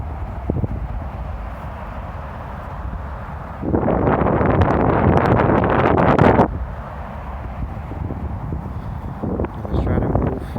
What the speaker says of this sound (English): Now it's a little bit windy here.